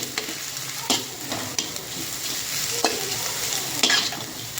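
Chopped cabbage being stir-fried in a pan, a soft continuous sizzle punctuated by sharp spatula scrapes about once a second, close and moderately quiet with no voices.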